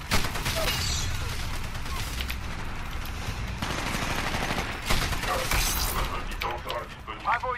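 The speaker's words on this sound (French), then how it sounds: "C'est une mitraillette ça?" Submachine gun fire in the game Titanfall crackles in rapid, repeated bursts mixed with other battle noise, with someone talking throughout.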